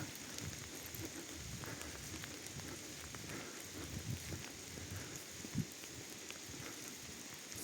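Steady rain patter in a resort park in Truskavets, with broadband hiss, constant and moderate in level, with a single sharper drop or tap near the end; no voices.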